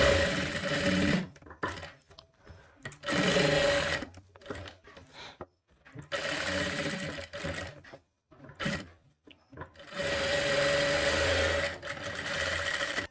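A sewing machine runs in repeated bursts while stitching a katori blouse, each run of fast mechanical whirring lasting a second or two and separated by short pauses, loud and close.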